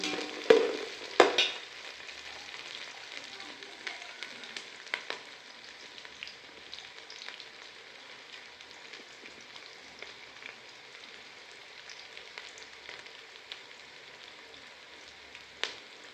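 Green chillies fry in a pan for mushroom biryani, a soft, steady sizzle with a few louder crackles and stirring clinks near the start, faint and continuous throughout.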